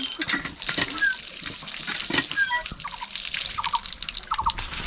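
Cold water running and dripping from a tap in the village of Dahagram-Angarpota, Bangladesh, with close splashing and patters of drops over faint background noise.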